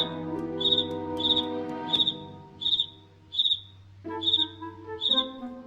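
A cicada zombie in Plants vs Zombies gives repeated short, shrill chirps at a steady rhythm over a low electronic game hum, about eight bursts in a row.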